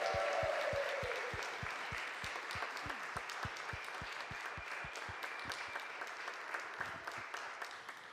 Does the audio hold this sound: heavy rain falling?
no